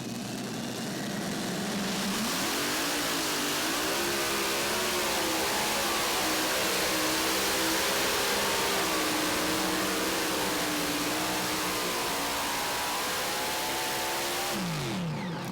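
A modified multi-engine tractor roars during a tractor pull, a loud, sustained, rasping drone whose pitch wavers and climbs as it strains down the track, close and constant throughout.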